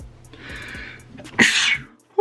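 One loud, close sneeze: a breathy inhale followed by a sharp, explosive burst.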